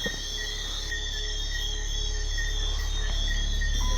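Tiny tree frogs call at night on Saba, a dense steady chorus of high, thin, insect-like chirps and whistles layered over a low constant background hum, with no voices.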